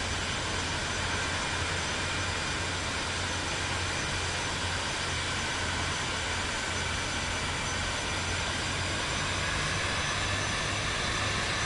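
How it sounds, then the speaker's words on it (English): An F-18 jet taxiing behind the player in Microsoft Flight Simulator 2024, a loud, unbroken engine whine and rumble that stays constant throughout. "I can hear this F-18 behind me."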